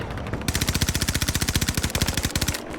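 Automatic weapon fire in the video game Battlefield 2042: a rapid, evenly spaced burst of roughly twenty loud shots lasting about two seconds, with brief quieter game ambience before and after.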